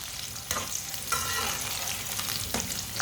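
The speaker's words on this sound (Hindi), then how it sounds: "टिंडे को थोड़ा सा ब्राउन कर लेंगे, थोड़ा सा पका लेंगे।" Cut pieces of tinda brown in a pan for a daal tinday sabzi, with a steady sizzle broken by a few sharp bursts as a spoon scrapes and stirs them, close and loud.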